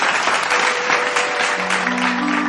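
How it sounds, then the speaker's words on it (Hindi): An audience applauds a singer onto a stage at an Odia music event, dense continuous clapping close and loud, with a sustained musical tone entering partway through. "गोटे जोरदार करताली सहित स्वागत करवा"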